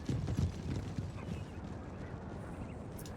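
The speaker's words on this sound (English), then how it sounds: "Helder's pushing quite aggressively with their cavalry on the 6-point Tyrol" Cavalry horses galloping across a battlefield in the video game Napoleon Total War, a busy patter of hooves that is strongest at the start and then thins into a softer background clatter.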